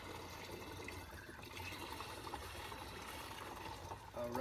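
Mixed Bora-Care wood treatment solution is poured into a sprayer, a steady close liquid splash and gurgle at low level lasting several seconds.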